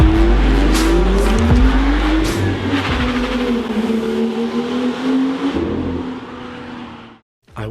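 A 2017 BMW M2 with a manual gearbox does a burnout: the engine revs hard and loud up close while the tires squeal. The sound drops out briefly near the end.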